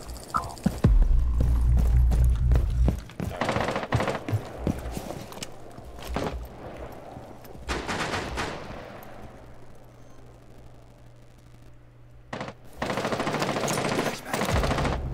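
Rapid automatic gunfire bursts from Rainbow Six Siege, loud and close, with a long sustained volley early on, then scattered shots and a final dense burst, with faint voices in the background.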